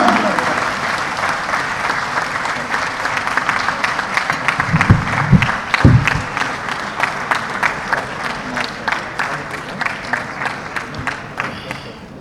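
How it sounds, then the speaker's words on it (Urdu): An audience at a grants distribution ceremony at Faisalabad Medical University applauds in a large hall, a dense sustained wash of clapping that thins toward the end into slower, more distinct individual claps, with a brief voice in the middle. "آپ کی تالیوں کی بھرپور گونج میں"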